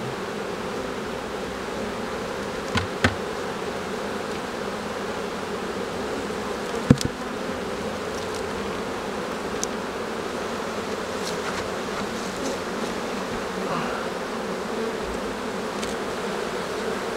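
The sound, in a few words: honeybee colony buzzing in an open beehive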